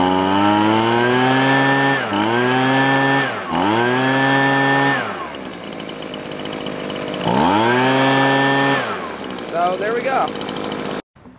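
Husqvarna 125B handheld leaf blower with a small two-stroke engine, revving in repeated loud, whining surges that climb and drop, with a brief lower-pitched idle between bursts and an abrupt cut-off at the end.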